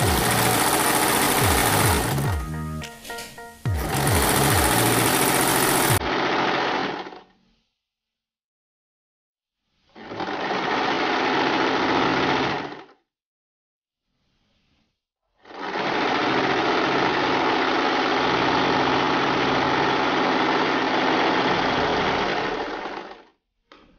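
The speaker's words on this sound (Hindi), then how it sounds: "हम स्टिचिंग करने जा रहे हैं। ऐसे हम पूरी स्लीव्स को स्टिच कर लेंगे।" A sewing machine stitches the sleeves of a front-open kurti, its motor whirring in three steady runs separated by silent gaps, close and loud, after some handling noise at the start.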